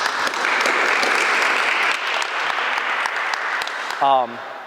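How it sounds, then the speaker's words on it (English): Audience applause fills the room after an employee wellness nutrition talk at a city hall, steady dense clapping for about four seconds, with a voice briefly speaking at the end. "Round of applause for Becky, guys"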